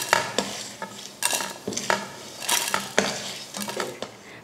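Roasted lentils and carrots scraped out of a pan onto a plate, a series of sharp metal scrapes and clinks from a spoon against the cookware, close and fairly loud.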